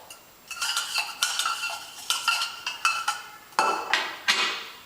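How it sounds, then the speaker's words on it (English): A twelve-month-old stirs with a spoon in a container, giving a run of scraping, clinking strokes in uneven bursts, close and fairly loud with no talk. "Stir with the spoon."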